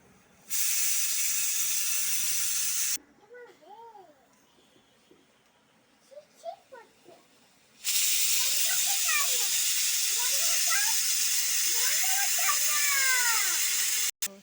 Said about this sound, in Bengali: চলো 10-15টা অন্তত সিটি পড়েছে, এবার এটা খুলি।